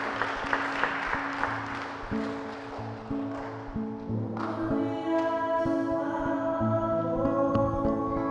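Light applause from a congregation during a Saturday Mass at a St Patrick church, brief and fairly soft at the start, soon overtaken by sustained organ or keyboard music.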